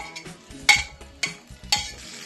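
Boneless mutton curry with browned onions stirred in a pan, three sharp spatula scrapes against the metal at regular intervals over a low sizzle.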